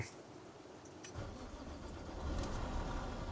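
An MCI Renaissance coach's engine cranks and catches, its low rumble building steadily over a few seconds into a running idle, heard alone at moderate distance.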